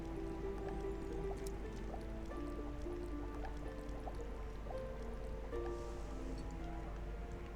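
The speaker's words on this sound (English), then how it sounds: "The bubbling is actually kind of annoying." Bubbling liquid in The Black Grimoire: Cursebreaker video game, a steady, continuous gurgle with drip-like pops running alone under layered tonal game ambience throughout.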